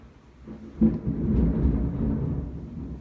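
Thunder rumbles outside after a lightning flash, a sudden low crack followed by a long rolling boom that lingers at steady loudness, heard indoors with no talking.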